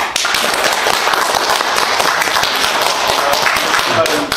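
An audience at a Korean lecture event gives dense, steady applause to welcome the lecturer, loud and continuous throughout, with a voice faintly mixed in.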